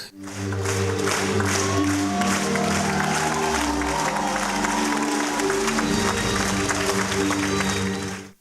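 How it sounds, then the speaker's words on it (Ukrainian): A theatre audience in Chernivtsi gives a long standing ovation, dense continuous clapping rising in and fading out at the end over a low sustained musical hum. "Довготривалими оплесками їх стоячи вітав глядач чернівців"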